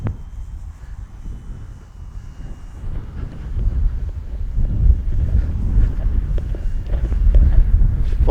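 Wind gusts buffet the microphone at an RC power glider flying field, a low rumbling roar that swells and grows louder and heavier over the span, with no voices heard.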